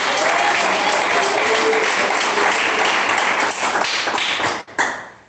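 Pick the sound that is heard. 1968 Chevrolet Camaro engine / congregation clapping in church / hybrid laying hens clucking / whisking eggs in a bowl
congregation clapping in church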